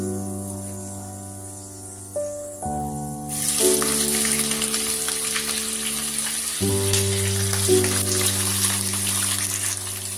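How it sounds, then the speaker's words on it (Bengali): Sliced onions, five large ones, fry in hot oil in a pan for mutton kosha, a steady loud sizzle that swells after a few seconds and holds alongside a sustained tonal hum. "এই পেঁয়াজগুলোকে আমাদের বেশ লালচে হওয়া অবধি ভাজতে হবে।"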